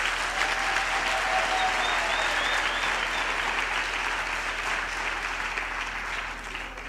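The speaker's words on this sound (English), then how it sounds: "A round of applause for the parents," Warm, sustained applause fills a university graduation ceremony hall as the crowd honours the graduates' parents, a dense, steady roar of many hands at some distance that eases slightly toward the end, with no speech over it.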